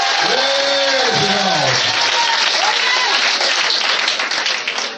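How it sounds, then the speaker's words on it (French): A congregation breaks into loud, sustained applause and cheering at a church healing service, a dense roar of clapping filling the whole stretch with voices mixed in. "Est-ce qu'on peut acclamer de Jésus?"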